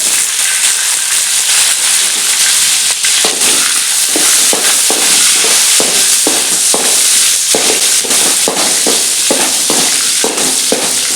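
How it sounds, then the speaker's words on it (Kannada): Green chillies sizzle and crackle loudly in a hot cumin tempering for plantain palya, a constant hiss broken by sharp popping bursts, with no voices over it. "ಬಾಳಿಕಾಯಿ ಪಲ್ಯಗೆ ಜೀರಿಗೆ ಹಾಕಿದ್ರ ಮೇಲೆ ಹಸಿಮೆಣಸು ಹಾಕ್ತೇವೆ"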